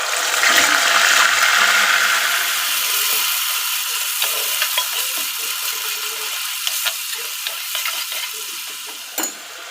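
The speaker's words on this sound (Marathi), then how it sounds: "मोहरी आता आपण घालूयात हे आपण कांदा टोमॅटोची पेस्ट बनवली होती ना ते टाकूया" Onion-tomato paste tipped into hot oil with cumin and mustard seeds for a homemade amti, a loud hissing sizzle that slowly settles, with scattered spoon scrapes and stirring clatter throughout.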